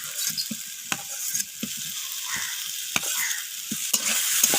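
Fried potatoes are stirred into a cooked spice masala with oil, a steady close sizzle broken by sharp clicks of the spatula scraping the pan at irregular intervals.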